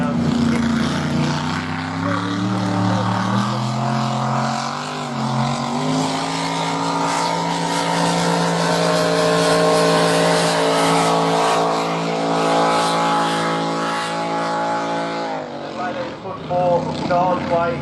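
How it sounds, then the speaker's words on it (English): A 372 small-block powerboat engine revs hard and loud at a racing event, its pitch climbing and holding high for a long stretch before dropping off near the end. "absolutely ringing the hell out of that engine. It's a little 372 small block temper coming down"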